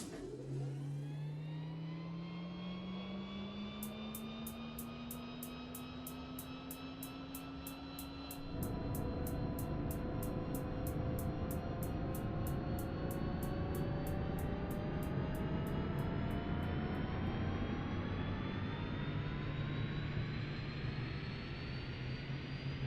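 Simulated Pilatus PC-12 turboprop engine starting up in X-Plane 12: a rising whine with climbing tones, then a louder steady roar and high-pitched spool-up that settles into a sustained turbine hum, alone without talk.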